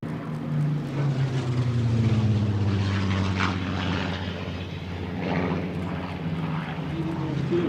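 Propeller warbirds at the Flying Legends air show at Duxford in 2010, including one with a 2,000-horsepower engine, drone overhead with a steady throbbing roar that swells and shifts in pitch as they pass, continuous over several seconds.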